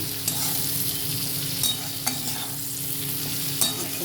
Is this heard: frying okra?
yes